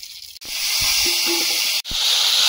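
Radhuni spice seeds hiss and sizzle sharply in hot oil in a wok, a dense, continuous crackle close by, broken by two brief drops.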